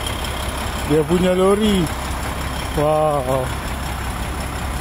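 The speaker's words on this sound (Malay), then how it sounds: "Dia punya lori" A truck engine idles with a low, steady rumble throughout, close by, while a voice exclaims over it.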